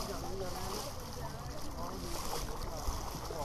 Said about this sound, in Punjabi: ਪਾਣੀ ਆ ਰੋਡ ਦੇ ਉੱਤੇ ਹੈ ਜੀ